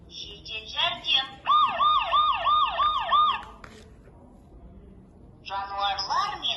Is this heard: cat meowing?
no